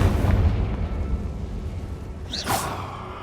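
In the game Hogwarts Legacy, a Confringo fire spell explodes in a loud rumbling blast that fades away, followed by a sharp crackling burst.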